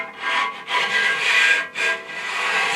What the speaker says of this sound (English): If you use a file, put the safety edge inside and just rub it up